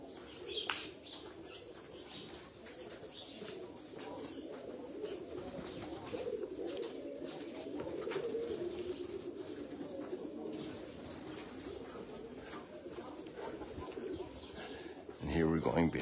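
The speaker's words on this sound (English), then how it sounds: "Oh, we had these doves before" Doves cooing outdoors near the Last Supper room and David's tomb in Jerusalem, soft repeated coos mixed with chirps and general ambient noise, fairly faint and steady throughout.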